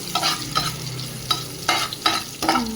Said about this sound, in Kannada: ಈರುಳ್ಳಿ ಕೂಡ ಹಾಕ್ಕೊಂಡು ಚೆನ್ನಾಗಿ ಒಂದು ಸ್ವಲ್ಪ ಈರುಳ್ಳಿ ಕಲರ್ ಹೋಗೋವರೆಗೆ ಫ್ರೈ ಮಾಡ್ಕೋಬೇಕು